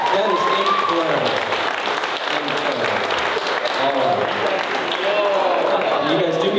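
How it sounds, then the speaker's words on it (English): Wedding guests break into sustained applause for a couple married sixty years, a dense, even patter of many hands clapping close by, with voices and cheers mixed in throughout. "Round of applause."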